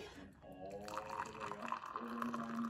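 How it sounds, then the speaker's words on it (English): Hot spice berry leaf tea poured from a pot into a cup, a gurgling liquid stream whose pitch climbs as the cup fills, heard up close and fairly quiet. "Okay, so now to pour our tea."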